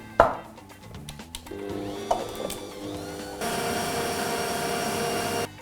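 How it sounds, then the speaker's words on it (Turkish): A stand mixer whisks vegetable oil and sugar for a coffee cake batter, a steady mechanical whirring with faint rattling beaters that grows louder and denser partway through, with no talking. "Önüme mutfak makinemi aldım. İçine sıvı yağ ve şekeri koyup çırparak işe başlıyorum."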